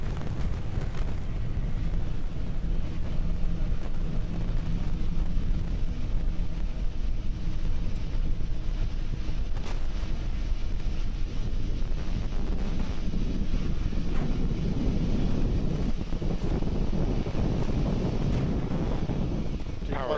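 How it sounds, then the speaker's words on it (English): A Falcon 9 rocket with nine Merlin 1D engines in flight gives a continuous low, rumbling roar with crackling texture, heard from a distance and sustained throughout, thickening toward the end. "We're currently throttling down the 9 Merlin 1D engines on the first stage"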